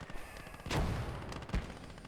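Mortar rounds fire in the WWII strategy game Call To Arms: Gates of Hell, two muffled, fairly faint booming thumps about a second apart over low battlefield background noise.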